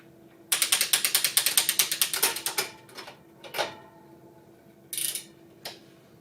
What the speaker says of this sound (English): You'll want to start by shifting the bike into the highest or smallest gear.